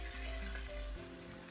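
Onions frying in a pan hiss and sizzle steadily as water is added, with a brief spoon stir, up close and alone, no talking.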